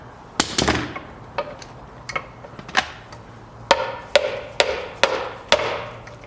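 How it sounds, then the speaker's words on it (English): A dead blow hammer strikes a nut threaded onto the shaft of a Dana 20 transfer case from a 1966-1977 Ford Bronco, landing about a dozen sharp, close thuds at uneven intervals, several in quick clusters, with no talk. "I'm going to take the dead blow, and bam, just like that"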